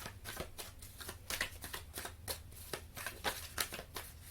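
A deck of tarot cards is shuffled and drawn by hand, giving a quick run of soft, papery riffles and flicks, close to the microphone and fairly quiet, with no voices.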